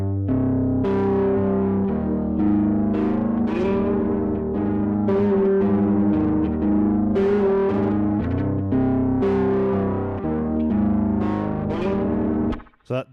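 Distorted electric guitar riff in a slow, heavy doom metal style, run through effects with chorus and echo, sustained chords ringing continuously and loud for the whole stretch before cutting off at the end.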